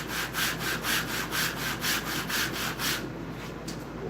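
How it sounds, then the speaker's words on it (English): Rhythmic back-and-forth rasping of guitar wood being sanded on a flat 120-grit sanding table, about eight even strokes, then stopping into quiet. "So this is 120 on my flat sanding table."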